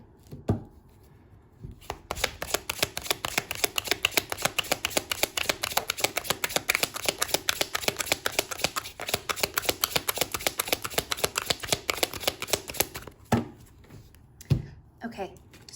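Rebel Oracle deck cards being shuffled by hand, a long run of rapid, even riffling clicks up close that stops, followed by a few isolated taps.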